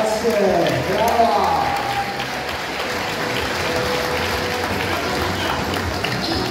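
A crowd claps steadily and warmly at an outdoor cycling award ceremony, a dense wash of applause lasting throughout, with a voice speaking over the start.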